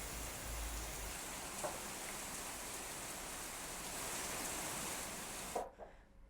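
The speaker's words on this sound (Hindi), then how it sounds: "तेज हवा के साथ लगातार बारिश हो रही है" Heavy, steady rain pouring down in strong wind, a loud unbroken hiss of water on surfaces that cuts off sharply near the end.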